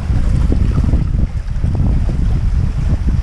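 A sailboat runs dead downwind at about five knots on an uncomfortable swell, heavy wind buffeting the microphone over rushing water and hull noise, loud and continuous with no talk.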